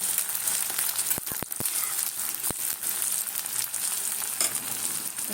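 Onion and whole cumin seeds frying in hot oil, a constant bright crackling sizzle with a handful of sharp clicks near the start, close and fairly loud with no talking.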